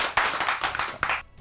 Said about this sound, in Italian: Forza con l'applauso, bello, intenso